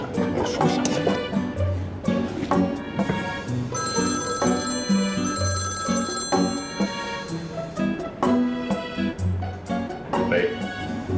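A telephone ringtone sounds in a drama scene, its steady electronic tones rising over background music while people talk nearby.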